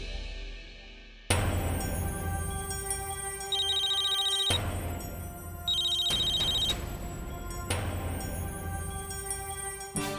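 An electronic phone ringtone plays in repeated bursts, a bright melodic ring cycling over a steady tone, loud and close with no one speaking.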